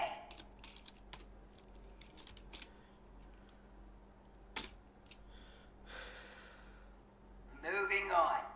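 Keys on a computer keyboard are tapped in the video game Aperture Desk Job: scattered, close clicks spread over several seconds, with a short burst of voice near the end.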